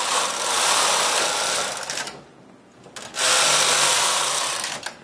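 A knitting machine set to tension 6 knits two rows of burnt orange yarn for a golf club cover: a loud, steady mechanical whirring sweep, a brief quieter pause, then a second full pass.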